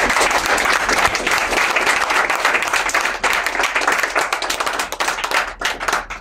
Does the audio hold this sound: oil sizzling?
no